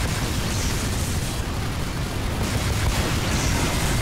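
Loud, sustained explosive blast from the video game Team Fortress 2, a dense rumbling roar filling the whole clip without a distinct break, heard up close with no talking.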